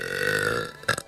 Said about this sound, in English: That was a very loud burp.